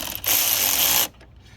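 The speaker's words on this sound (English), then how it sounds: "Our little ratchet here. I like the one that has the flexible head." A ratchet loosening a 10 mm battery terminal nut on a 2005 Ford E-150 gives one quick burst of rapid clicking lasting under a second, close and crisp, followed by a couple of faint ticks.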